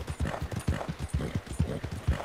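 Horse hooves clip-clop in a steady, close rhythm of about a dozen footfalls on the ground in the Red Dead Redemption 2 video game, with no talk over them.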